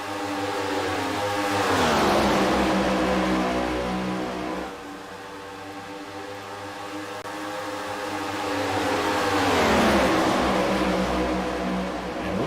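Race cars in the Memorial 125 roar past on the track, two loud swelling drive-bys with engine drones that rise and then fall in pitch, separated by a quieter lull.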